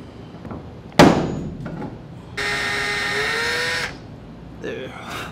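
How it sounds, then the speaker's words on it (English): A power drill drills out a failed rivet on a RANS S-21 aircraft wing during the build. One sharp knock is followed by a steady, close drill whine lasting about a second and a half, then a brief softer whir. "so I'll need to drill that guy out."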